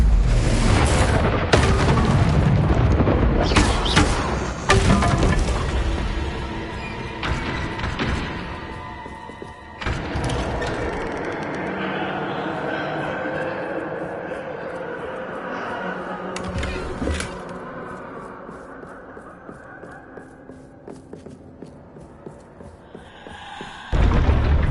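A Confringo spell blast in Hogwarts Legacy sets off loud booming explosions with sharp bursts early on, then a long rumbling, crackling decay that fades before a final abrupt burst.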